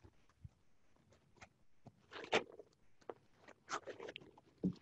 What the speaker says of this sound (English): I'm sorry for all the rustling and noise of papers.